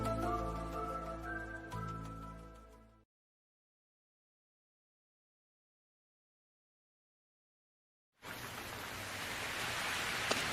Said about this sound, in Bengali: ঝড় বৃষ্টি চলে এলো